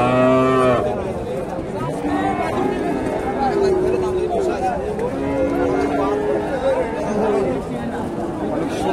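At a Bangladeshi cattle market, a bull or cow lets out a drawn-out moo and then several more, rising over steady crowd chatter and nearby talking.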